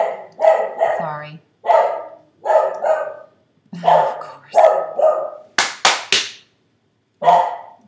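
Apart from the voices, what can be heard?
dog barking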